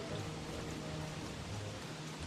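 Rain falling in the video game Don't Starve: Hero in the Dark, a soft, even hiss of steady rainfall, faint and continuous with no talk.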